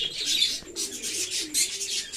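Pigeons kept in a rain-affected coop give soft low coos with scattered chirpy bird calls and faint wing movement, close by, with no voices.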